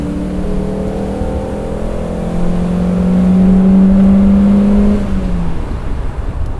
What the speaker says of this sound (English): And that twin spark engine sounds incredible.